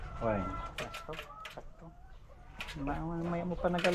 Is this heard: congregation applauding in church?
no